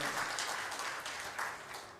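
Audience applause at a Sunderkand lecture, a steady wash of many hands clapping at moderate level for about two seconds, with no speech over it.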